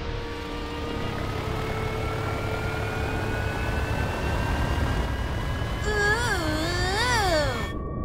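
A cartoon aircraft performs a victory flyover above a soccer stadium, its engine drone rising and passing overhead with a swooping, whooshing pitch sweep toward the end before cutting off abruptly.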